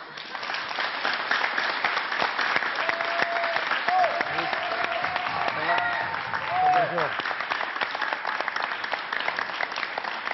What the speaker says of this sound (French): Jamal Debbouze, on l'applaudit encore.